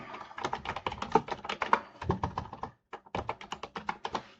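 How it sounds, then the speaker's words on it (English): Rapid typing on a computer keyboard, dense clattering key taps with a brief pause in the middle, close and fairly quiet, with no talk. "My fingers are off the wrong keyboard part, so it's typing gibberish."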